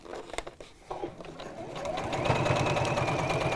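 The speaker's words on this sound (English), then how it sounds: "if you can sew just on the inside of that stitch line, it will make a nice neat finish" A sewing machine stitches along the inside of a seam line on fabric, running as a steady, close mechanical whir that builds after a few scattered handling clicks and continues evenly to the end.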